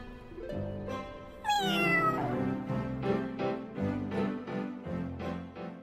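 A cat meows in a rising, drawn-out cry, close and clear, with further meow-like calls over a steady musical backing throughout.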